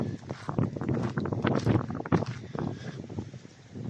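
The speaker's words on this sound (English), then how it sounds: "shame about the blooming wind" Strong outdoor wind buffeting the microphone on a coastal morning, gusty rumbling bursts that rise and fall continuously throughout.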